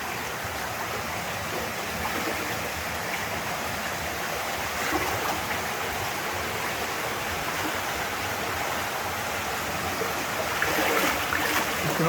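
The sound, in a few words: water flowing through a mill tunnel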